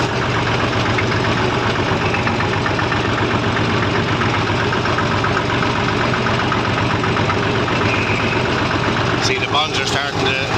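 A Massey Ferguson 35 tractor with a freshly overhauled engine runs steadily up close, a loud, continuous chugging diesel drone with a knocking pulse throughout and some clattering near the end.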